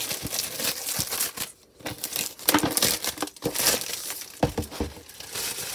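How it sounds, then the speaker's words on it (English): Plastic wrapping is pulled and torn off a Brickmania box, close crinkling and crackling bursts with short pauses between handfuls. "Yeah, the plastic is now off."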